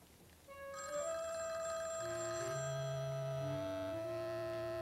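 A telephone rings in a home, a bright electronic warble that starts softly and then rings loud and steady, alone with no voices.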